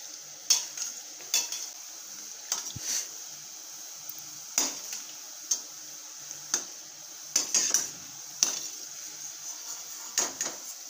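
Gulab jamun balls frying in hot oil while being stirred, with a steady soft sizzle under repeated sharp clinks and scrapes of a utensil against the pan, close and moderately loud, no talking.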